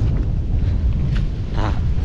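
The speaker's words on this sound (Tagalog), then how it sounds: "So malakas ang hangin dito Kapchat kasi nga po ay napakaluwang ng hilog kaya malakas ang hangin" Strong wind buffeting the microphone beside a wide river, a low continuous rumble with gusty swells, no voices.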